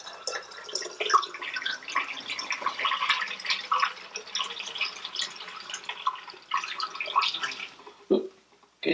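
Mixed Unicolor C-41 chemical solution poured into a developer bottle, a close, uneven liquid gurgle and trickle with drips that tapers off and stops near the end.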